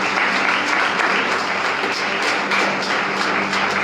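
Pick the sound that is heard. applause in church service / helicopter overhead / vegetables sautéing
applause in church service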